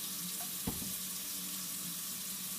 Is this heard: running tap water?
yes